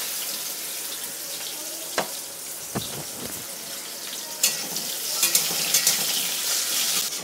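Bitter gourd fries in hot oil in a wok with a steady close sizzle, broken by a few sharp clinks and scrapes of stirring.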